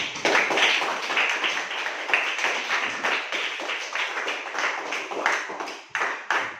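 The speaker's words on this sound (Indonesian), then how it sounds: "Silakan tepuk tangan semua dulu" A classroom group claps together in a steady, dense round of applause that runs unbroken for several seconds, bright and close, with a brief dip just before the end.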